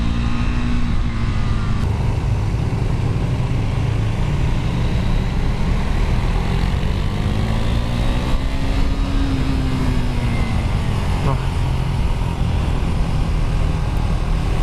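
KTM 390 Duke single-cylinder motorcycle pulling hard uphill, a loud steady engine drone with rising pitch sweeps through the gears over constant wind rush, close and continuous throughout.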